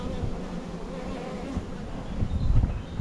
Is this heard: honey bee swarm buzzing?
yes